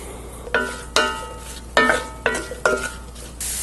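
Diced baby portobello mushrooms cook in a pan, giving several brief scraping stir strokes over a soft sizzle, close and fairly loud, with no talking.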